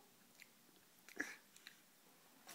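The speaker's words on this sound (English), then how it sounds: "Chew it up all the way." A young child chews food with faint, scattered bites and soft crunches at close range over quiet background, with no one talking.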